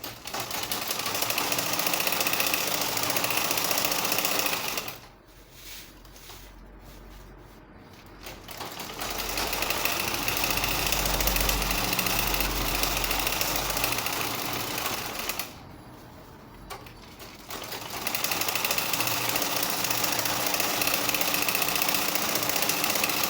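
A sewing machine runs a long gather stitch across a baby frock, a steady close mechanical whir that pauses briefly twice and then resumes, with no talking.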